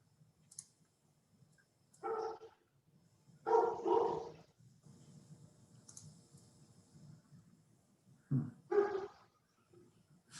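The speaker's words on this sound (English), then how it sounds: "My dogs are going to start barking." Barks from a new puppy and other dogs indoors during a live online wine chat, a few sharp bursts spaced across the clip over a low background hum, with faint clicks between them.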